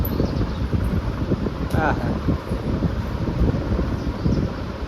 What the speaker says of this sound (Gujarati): પવન થોડોક આવતો હોય છે